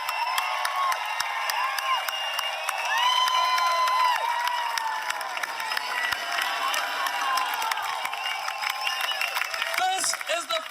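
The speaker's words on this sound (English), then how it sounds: "Big round of applause for this lady here," Large outdoor crowd at a street march on Queen Street in Auckland, clapping and cheering steadily throughout, with overlapping voices and shouts in a dense, sustained roar.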